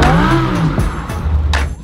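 Lamborghini engine revving up close, a loud rising and falling mechanical roar with a brief whine, alone with no talk.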